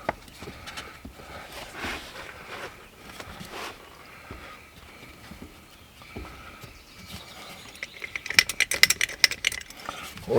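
Clanking and ratcheting metal from a car jack being worked to lift an RV slide room and ease pressure off its bolts, with irregular knocks and scrapes building into sharper, louder metallic clicks near the end; no one speaks.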